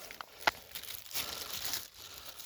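A large plastic bag crinkles and rustles close by in a forest in irregular bursts, with one sharp crackle early on, then a steady papery crumpling.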